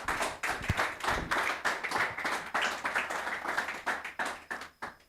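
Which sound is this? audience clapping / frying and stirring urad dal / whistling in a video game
audience clapping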